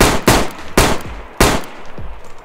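Three loud, sharp Magnum revolver shots from the game DayZ, evenly spaced about half a second apart, each a hard crack with a booming tail, heard alone without any talk.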